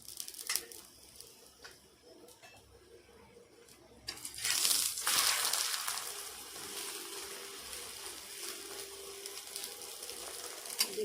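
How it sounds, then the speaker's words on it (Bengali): Paratha frying in a small amount of white oil, a faint soft sizzle and crackle that swells partway through and then settles to a steady low hiss, with no voices. "এবার আমি এর মধ্যে অল্প পরিমাণ সাদা তেল দিয়ে দিলাম"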